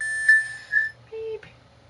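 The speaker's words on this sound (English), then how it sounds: "Beep, beep, beep." Short electronic beeps from the Phoenix Wright: Trilogy game, a few clipped tones at varying pitch, separated by brief gaps, clear and alone with no talk.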